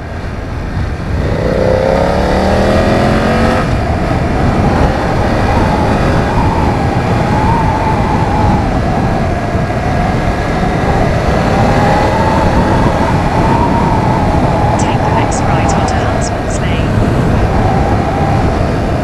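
A BMW F900R motorcycle ridden two-up on a country road, its engine droning loud and steady with rising and falling revs and heavy wind rush, as riders talk over it.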